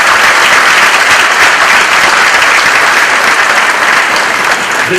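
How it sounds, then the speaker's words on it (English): Loud, steady audience applause fills the room at a US Army Corps of Engineers Louisville District change of command ceremony, continuous dense clapping from a sizable crowd throughout. "Let's give her a round of applause."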